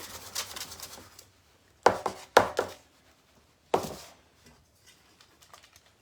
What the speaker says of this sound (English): Hit it on the counter.